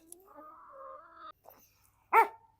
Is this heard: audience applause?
no